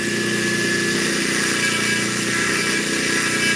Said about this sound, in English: This is all I started with the Dremel.